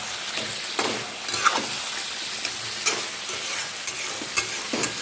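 Dum chicken cooks in a covered pan, giving off a continuous loud sizzle broken by regular scraping stirs, with no voices.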